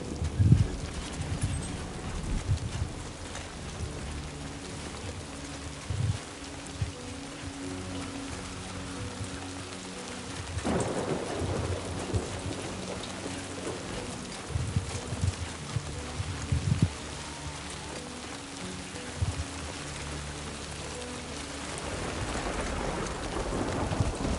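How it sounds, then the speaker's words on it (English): Steady rain hisses in the video game Death Stranding 2: On the Beach, with low, rolling thunder swelling about midway and again near the end, all at a moderate, even level. "It's that Florida rain."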